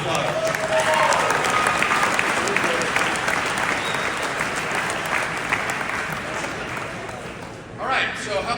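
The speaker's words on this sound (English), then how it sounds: "Give them a round of applause." A large audience applauds loudly and steadily, dense clapping that holds for several seconds before thinning out briefly and swelling again at the end.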